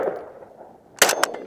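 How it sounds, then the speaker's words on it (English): Springfield Armory Hellion rifle fired at a steel target about 100 yards downrange: a sharp, loud shot after a quiet stretch, followed shortly by a brief bright ring from the struck steel. "I have a steel target set up about 100 yards downrange."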